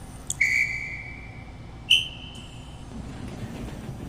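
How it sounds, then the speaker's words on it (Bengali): A train guard blows two sharp, shrill whistle blasts, the second a second and a half after the first, each trailing off over the steady low rumble of a waiting train. "গার্ড তার বাঁশি বাজানোর সঙ্গে সঙ্গে আমরা আবার চলতে শুরু করলাম।"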